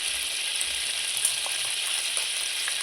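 Ground masala paste of onion, cumin, coriander seed, black pepper, fresh coriander, green chillies and garlic frying in oil, a steady bright sizzle with faint crackles and no voices.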